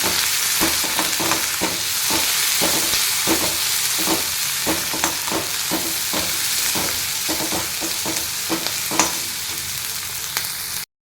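Green beans sautéing in a hot pan, a steady loud sizzle throughout with rhythmic scraping stirs every fraction of a second.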